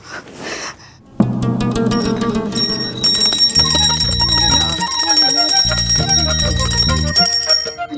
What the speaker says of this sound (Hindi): घंटी कहाँ गई है?